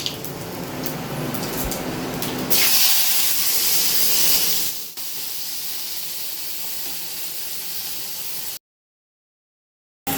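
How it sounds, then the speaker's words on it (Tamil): Onions sizzling in hot oil with mustard seeds and fennel in a pan for mutton gravy, a loud, steady hiss that swells briefly then settles before cutting off. "இப்போ வெங்காயம் போட்டு வதக்கலாம்."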